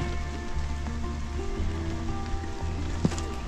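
Rain falling in a Florida swamp during a downpour, a steady hiss of drops with a low engine-like hum beneath and a single sharp tap near the end.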